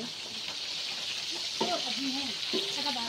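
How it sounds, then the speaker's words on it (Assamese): Fish sizzles steadily in a hot pan with a bright, constant frying hiss, while voices murmur nearby over it. "মাছ ভাজিছে"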